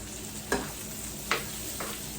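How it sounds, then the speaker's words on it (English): Potatoes sizzle softly in a pot with smoked turkey as a spoon stirs them, giving a few quiet scraping strokes over a low background hiss. "So I'm gonna saute that until they're all coated."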